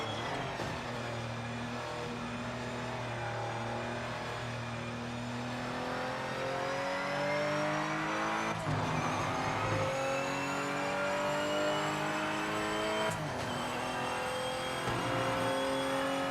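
Race car engine from the Project Motor Racing video game on PS5, droning steadily with rising and falling revs through gear changes, loud and continuous with no talking.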